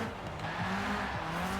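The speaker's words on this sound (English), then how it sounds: "Neat sounding engine." A car engine in the Forza Horizon 4 racing game revs with a steady, droning exhaust note, with a hint of tire squeal as the car slides sideways. It is continuous and fairly quiet, with no talking.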